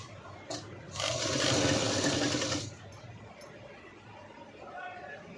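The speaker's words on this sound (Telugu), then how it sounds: "మధ్యలో పీస్ అనేది కట్ చేసి లెఫ్ట్ సైడ్ కింద నుంచి స్టిచ్ చేసుకోవాలి." An electric sewing machine stitches a V-neck cut-work blouse in a steady whirring run of about two seconds, moderately loud, then stops, leaving quiet room noise.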